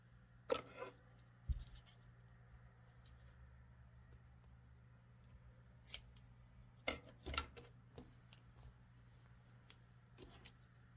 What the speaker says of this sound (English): So I'm just gonna cut this off here.